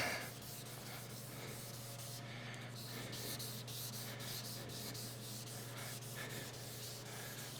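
Steady rubbing and scraping of sandpaper on a sanding block across painted body panels of a 1967 Pontiac Firebird, continuous and close, with a constant low hum beneath and no talking.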